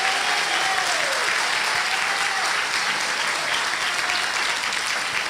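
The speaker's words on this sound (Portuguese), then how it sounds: "Pode aplaudir de novo," Sustained applause from a church congregation during a Christian conversion testimony, dense steady clapping throughout with a faint tonal whistle-like line drifting underneath.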